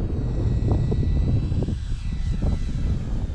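An E-flite Timber Turbo Evolution RC airplane flies low overhead, its engine a steady, fairly loud drone that swells and eases slightly as it passes, with wind buffeting underneath.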